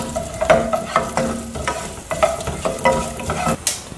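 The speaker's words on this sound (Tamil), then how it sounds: "அப்புறம் வெந்தயம் போட்டுடலாம். முதல் 2ஐயும் நல்லா வறுத்துக்கலாங்க." Coriander seeds and fenugreek roasting in oil in a pan, a steady close sizzle broken by repeated scraping stirs and small clinks of the utensil against the metal, with no talking.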